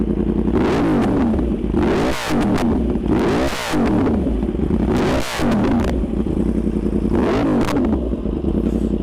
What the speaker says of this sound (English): That's the Austin Racing exhaust.